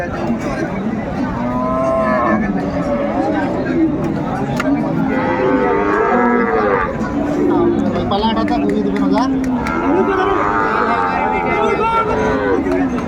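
Dairy cows at a cattle market in Ambari, Dinajpur, mooing repeatedly and loudly up close amid a busy crowd's chatter and people talking.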